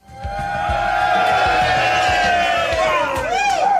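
Studio audience roaring and cheering as a band is introduced, a loud sustained crowd swell with shouts and whoops rising quickly and holding, rhythmic thumping music beneath.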